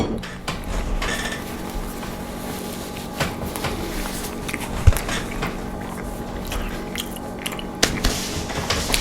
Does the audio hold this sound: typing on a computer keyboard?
no